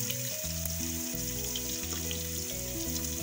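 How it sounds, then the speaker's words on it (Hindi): Garlic frying in oil in a pan gives a soft, continuous sizzling hiss, heard throughout beneath louder background music with stepped melodic tones. "लहसुन को भी मैं 1 मिनट के लिए इसमें फ्राई करूंगी।"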